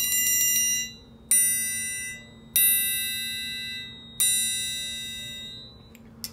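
A metal triangle plays short muffled rolls, four bursts of rapid ringing that are each damped after about a second, heard close and alone.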